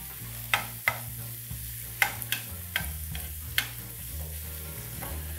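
Food browning in a pan with a pinch of salt gives a steady close sizzle, broken by several sharp utensil taps and scrapes as it is stirred, over a low tonal background hum.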